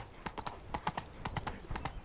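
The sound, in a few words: Roach the horse galloping, from the video game Witcher 3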